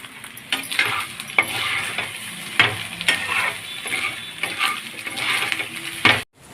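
Fish roe and an egg omelette frying in a pan, a steady sizzle broken by repeated scraping and stirring clatters of a utensil against the pan, close and moderately loud, ending abruptly.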